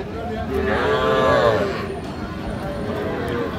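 A young Nepali Gir calf gives one short, nasal moo close by at a cattle market, over a rumbling background with faint movement and voices.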